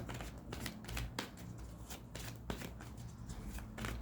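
Tarot cards shuffled close by in a quiet room, giving rapid papery riffles and soft flicks in repeated bursts, with no talking.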